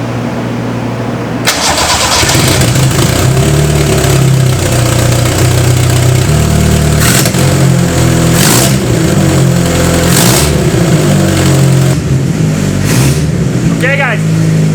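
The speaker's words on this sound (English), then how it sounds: "we're going to hear what a 4AG engine sounds with a massive hole in the exhaust manifold" A Toyota 4AG engine with a massive hole in the exhaust manifold cranks, fires up and runs loudly nearby, a rough, rasping idle with a few revs and a brief voice near the end.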